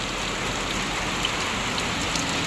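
Heavy rain pours in front of a house and shop, water pooling everywhere; a loud, dense, unbroken roar of drops close by.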